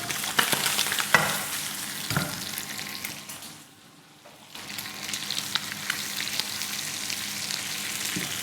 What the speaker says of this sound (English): So this is streaky bacon. Pan frying it to get a little bit crispy